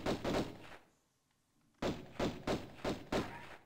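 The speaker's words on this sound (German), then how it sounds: "Wann ist die Tür links uns gerade eben aufgegangen?" Heavy door mechanism in Tomb Raider I Remastered, a series of dull thunks: a few close impacts, a pause, then several more evenly spaced knocks, fairly quiet.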